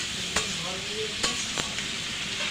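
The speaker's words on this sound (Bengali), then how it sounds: "এই যে সয়াবিনের তরকারিতে তো যেটুকুন আছে ওইটুকুন ভাজাতে দিয়ে দিই।" Soybean curry sizzles steadily in a hot pan while a utensil scrapes and stirs it in a few sharp strokes, the frying hiss close and constant throughout.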